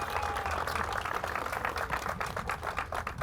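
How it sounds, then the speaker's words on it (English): A crowd of community members and elementary school children at an outdoor baseball field renovation announcement claps in a steady, dense patter of hand claps lasting several seconds at moderate distance. "Give yourselves a round of applause"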